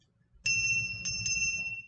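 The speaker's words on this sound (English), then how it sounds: "That's my birthday brass bell." A small brass bell rings several times in quick, bright strikes near the listener, the tones lingering briefly against a quiet room with faint background rumble.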